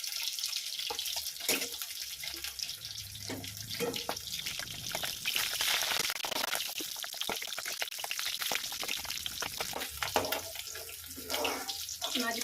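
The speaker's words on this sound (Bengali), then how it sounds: "মাছগুলো উল্টে পাল্টে ভালো করে ভেজে নেব।" Fish pieces frying in a pan while being turned over: a continuous, even sizzling hiss with scattered clinks and bumps at moderate distance, and no talking.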